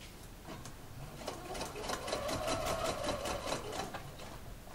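A sewing machine stitches bias binding onto a curved seam, running in a steady, close, rapid whir for a few seconds, then slowing and stopping.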